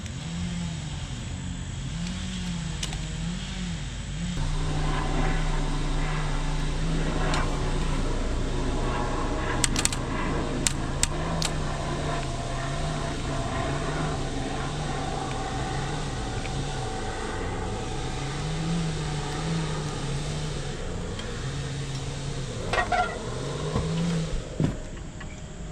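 A John Deere 2653A mower with a Yanmar three-cylinder diesel, its solenoid wires jumped, cranks and then settles into a steady, close diesel run with a rhythmic throb and a few sharp clicks.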